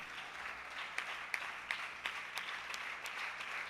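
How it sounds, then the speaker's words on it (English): An audience at the World Space Week 2022 valedictory ceremony in Prasanthi Nilayam claps in steady, moderately distant applause, with a few sharper individual claps standing out from the crowd. "I request everyone to join me in giving them a huge round of applause"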